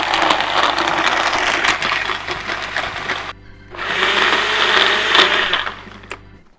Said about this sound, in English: Okay, let me blend this.